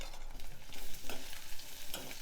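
Pieces of amla, Indian gooseberry, seeded and cut, sizzle and fry in a pan while being stirred, a steady close crackle with brief scraping bursts and no voices.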